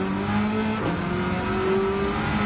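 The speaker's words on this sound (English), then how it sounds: "I really like the sound of this engine as well." A race car engine in Gran Turismo 7 holds a steady high-pitched whine, revving slightly up and down with a gear change midway, loud and continuous with no voices.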